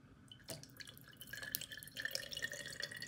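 Liquid dripping and trickling through an improvised strainer into a glass, a close, quiet run of small drips and splashes with no speech.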